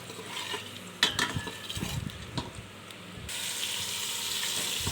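Eggs fry in a pan for a mess-style egg biryani, a soft continuous sizzle broken by sharp utensil clatter and scraping, with no one speaking.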